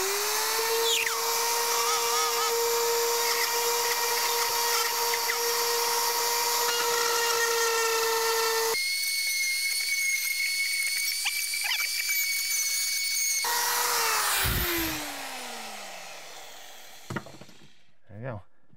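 A power tool cutting drywall around an electrical box whines at a high, steady pitch, shifts tone midway as it bites, then winds down with a descending whir and a couple of clunks at the end.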